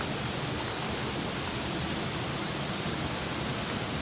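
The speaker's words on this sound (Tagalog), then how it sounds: "Pero dito maririnig mo yung tubig dito." Water rushing loudly through a cave in Iligan: a constant, dense roar of flowing water, loud and unbroken from start to finish, with no voices.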